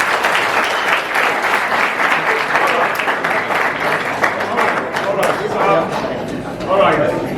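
An audience at a Kenyan public gathering breaks into loud, sustained applause for a lawyer, with dense clapping filling the whole stretch and crowd voices mixed in.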